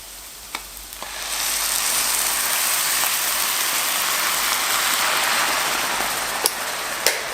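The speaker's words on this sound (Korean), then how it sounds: "여기서 이제 마늘을 같이 익힌다는 느낌으로 골고루 끓여줄게요." Minced garlic, milk and canned tuna cook together in a pan over medium heat, making a loud, dense, continuous sizzling bubble with a few sharp clicks from a utensil.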